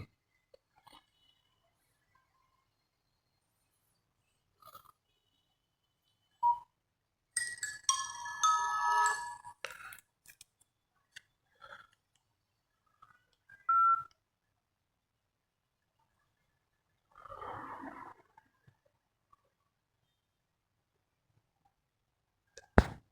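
Nokia mobile phones powering up in turn, among them S60 handsets such as the 6680: short electronic startup tones and a brief melodic chime, separated by long stretches of near silence.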